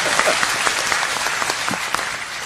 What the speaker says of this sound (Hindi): बस ये जोरदार ताली बजा